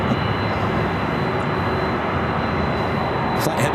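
Steady, loud roar of a Delta Boeing 767-300ER jet airliner approaching at LAX, a continuous broadband rumble with a faint high whine, no voices.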